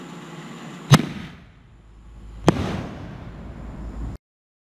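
Fourth of July fireworks explode overhead in two loud, sharp bangs about a second and a half apart, each followed by a rumbling, fading tail that echoes outdoors.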